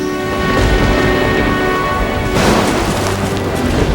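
Heavy rain pours through a forest in a steady, dense, loud downpour, with low rumbling booms and a sustained musical drone beneath it.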